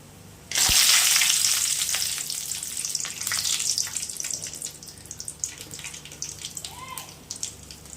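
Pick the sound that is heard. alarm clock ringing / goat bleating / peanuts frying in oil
peanuts frying in oil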